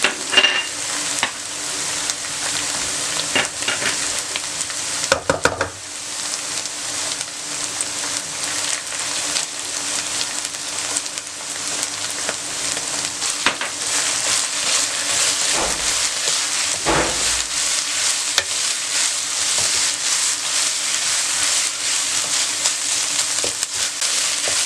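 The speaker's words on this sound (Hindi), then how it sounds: "10 मिनट से मैं कीमा को फ्राई कर रही हूँ।" Minced meat (keema) with ginger frying in a pan, a steady loud sizzle with occasional stirring scrapes, continuous throughout and close, with no talking.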